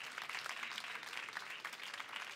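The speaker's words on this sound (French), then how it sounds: "Vous pouvez les applaudir et vous applaudir aussi pour ces lectures exigeantes." Faint, steady applause from an audience of high-school students and teachers at a literary prize ceremony during a book festival, many hands clapping evenly throughout.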